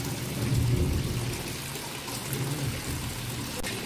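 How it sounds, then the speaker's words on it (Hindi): Heavy rain pours steadily during a thunderstorm outdoors, a dense continuous hiss with low rumbling thunder rolling underneath, loud and close with no talking. "लेकिन खूब बारिश हो रहा तेज तेज दोस्तों,"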